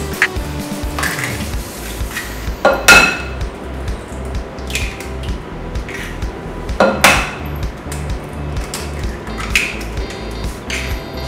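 Four eggs cracked one after another into a mixing bowl of flour for a lemon sponge cake, giving a few sharp shell taps and clinks against the bowl rim, spaced a few seconds apart and close by.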